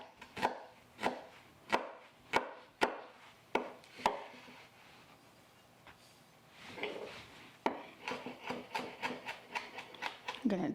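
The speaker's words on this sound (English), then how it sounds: "I'm going to put a little finer chop on it here, not much." Knife chopping a small onion finely on a cutting board: two bursts of quick, sharp taps, about eight evenly spaced at first, then a faster irregular run after a pause, close and fairly quiet.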